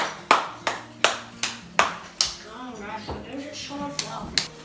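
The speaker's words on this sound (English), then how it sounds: "Everyone give Dad a big round of applause" Family at home clapping for Dad, a handful of sharp, evenly spaced claps close by, then softer scattered clapping mixed with talking and chatter.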